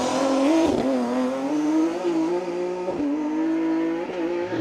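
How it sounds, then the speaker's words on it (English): V6-engined Ford Escort G3 rally car driven hard on an asphalt rally stage in the Manx Rally, a loud, close engine howl rising through the gears with sharp dips at each shift, heard alone. "that V6 engined Escort G3 being pushed hard from early on here"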